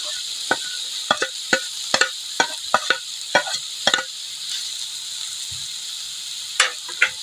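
Sliced frozen ham fries in a pan alongside hotdog for spaghetti, a steady soft sizzle running underneath sharp, irregular clicks and taps of a utensil stirring against the pan.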